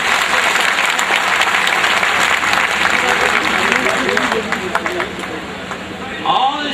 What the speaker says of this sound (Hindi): जोरदार तालियों से इस्तकबाल कीजिए राष्ट्रीय उपाध्यक्ष।